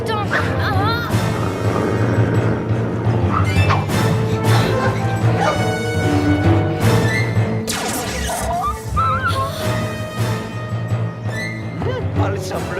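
Dog named Sultan barking repeatedly in a cartoon scene, yips and barks mixed with music, crashes and voices talking over it throughout.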